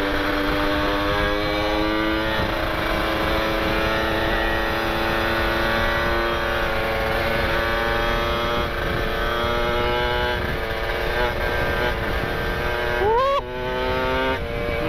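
A Kawasaki Ninja RR two-stroke motorcycle fitted with a 13-39 gear set accelerates hard on a quiet road, its loud, close engine note climbing steadily in pitch through the revs, with a brief shift near the end.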